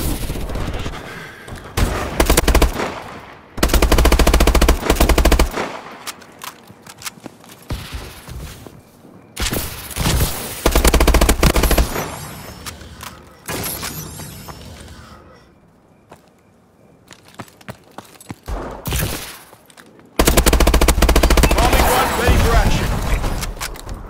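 Automatic weapon fire in a first-person shooter team deathmatch, with repeated loud bursts of rapid gunshots broken by short pauses and game voice callouts, and explosions mixed in.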